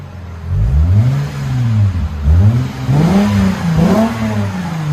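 A Lexus IS 250 2.5L with a Megan Racing axle-back exhaust and Vibrant mid pipes revs repeatedly, its loud, close engine note climbing and falling in several swells over a steady rumble.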